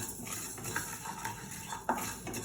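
A spoon stirs mint and coriander leaf pickle in a pan on the stove, with soft scraping and a few sharp metallic clinks against the pan, close and fairly quiet with no talk.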